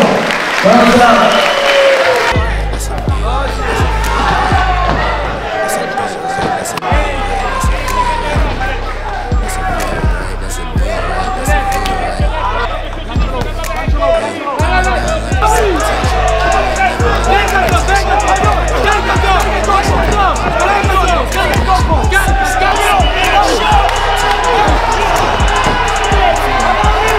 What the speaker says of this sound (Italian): Adesso un grandissimo applauso per gli atleti che hanno infuocato questo ring, dato tutto, un bel applauso